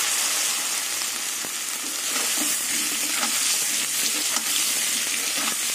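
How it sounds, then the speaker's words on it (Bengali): Chunks of boiled mankochu (giant taro) fry in the oil left over from frying shol fish, giving a loud, dense, continuous sizzle with occasional crackles and stirring scrapes close by. "এবার কচুগুলো এই মাছের তেলেই ভেজে নেব"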